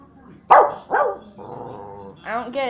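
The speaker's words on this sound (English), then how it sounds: "What are you barking at?" Grandma's dog, Asia, lets out two loud close barks, then a low growling rumble and a further string of sharp, harmonic barks.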